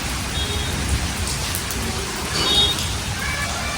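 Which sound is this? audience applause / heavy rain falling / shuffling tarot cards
heavy rain falling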